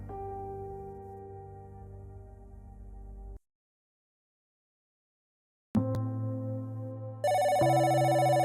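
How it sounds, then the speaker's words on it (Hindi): A phone rings with an incoming call: a tonal ringtone plays, cuts to silence, then resumes louder and brighter, sounding close and clear. "अरे, भाभी का फोन।"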